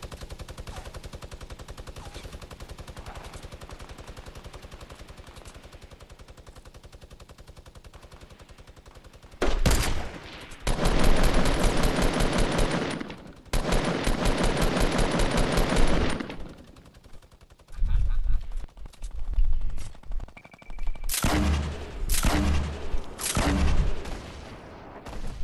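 Gunfire in Fortnite Battle Royale, quiet distant sounds at first, then loud close bursts of rapid automatic fire and booming shots in several clusters with short pauses between them.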